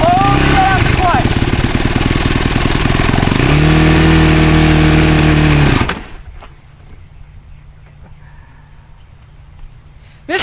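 A Yamaha YFZ 450 ATV engine runs loud and close, revving up and holding a high pitch, then cutting off abruptly and leaving near silence with faint knocks; a voice talks over it.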